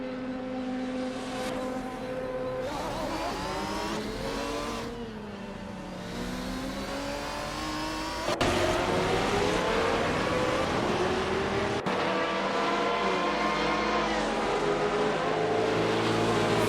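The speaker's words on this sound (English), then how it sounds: "I hope you're enjoying watching these AI cars race as much as I am." GTR race cars roar around Road Atlanta in a racing video game, engines revving and shifting with rising and falling pitch as several cars pass close by, loud and continuous with no talk.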